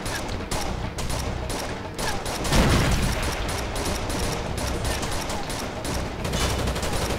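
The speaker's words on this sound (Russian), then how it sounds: "Я сел за пулемет." Machine gun fire in the co-op shooter game Rainbow Six: Vegas 2, a dense sustained burst of rapid shots running the whole stretch with a heavier boom midway, loud and close.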